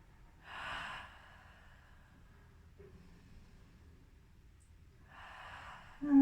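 Slow, deep breathing while a yoga pose is held: two soft, airy breaths, one near the start and one near the end, separated by a long quiet pause, heard close and alone with no talking.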